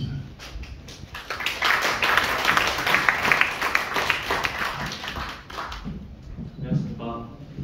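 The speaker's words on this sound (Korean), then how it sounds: "박수로 모시겠습니다." At a lecture event an audience claps to welcome a speaker, a dense patter of applause that swells and then fades out near the end, mixed with some talking.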